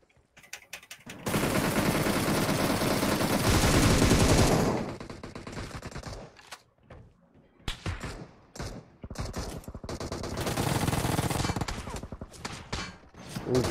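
Automatic gunfire from a battle royale video game: long, dense volleys of rapid shots, loud and close, breaking into scattered single bursts, then a second sustained barrage.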